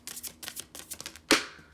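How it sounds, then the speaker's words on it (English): A large Sufi Wisdom Oracle card deck shuffled awkwardly by hand, a series of soft rhythmic card slaps and flicks ending in one sharper, louder snap, close up with no talking. "this deck is big, so I have to shuffle it weirdly"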